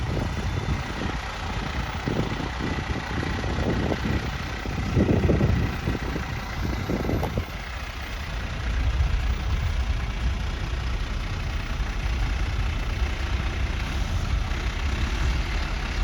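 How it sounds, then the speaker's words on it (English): A Peterbilt quint-axle dump truck engine idles with a deep, steady rumble, a few clattering knocks early on, then a continuous low drone. "That's a long truck. That's a big truck."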